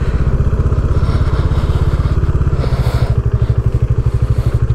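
Motorcycles, including a Dominar 400, idle in a queue at an expressway toll booth, a loud close rhythmic engine thrum with steady pulsing beats and some clatter.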